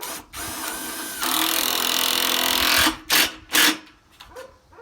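A power drill drives screws into a pre-drilled wooden planter box: one loud, steady motor whir lasting about two seconds, then two short follow-up bursts, up close with no talking.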